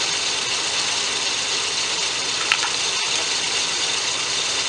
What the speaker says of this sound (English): Go ahead and unscrew it here real quick.